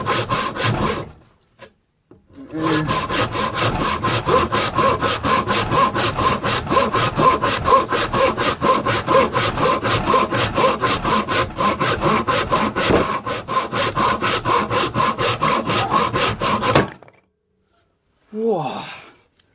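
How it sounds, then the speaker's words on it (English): A hand saw rasps through a birch log in fast, even back-and-forth strokes, loud and close, running steadily for about fifteen seconds before stopping, with a brief pause near the start and a short rustle at the end. "I'm going to start sawing and whip this little chunk here off"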